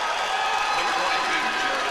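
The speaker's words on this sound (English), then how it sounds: "Oh, the Staley crowd gets on their feet." A high school basketball crowd cheers loudly at a Class 6 Final Four game, Nixa versus Staley. It is a dense, sustained roar of voices throughout.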